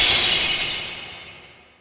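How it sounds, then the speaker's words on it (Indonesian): A glass window is smashed by a hard blow and shatters in one loud, bright burst. The crash rings out alone and fades away over about two seconds. "terdengar sesuatu yang menghantam kaca jendela dengan keras"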